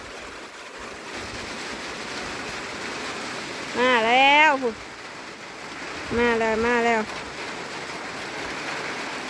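Steady heavy rain hisses throughout, with a voice calling out twice in Thai over the downpour.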